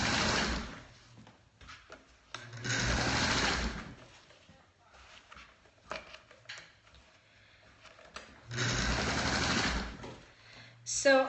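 A sewing machine stitches tulle for a wrap skirt in two longer whirring bursts of rapid ticking needle strokes, with quieter gaps where a person talks between runs.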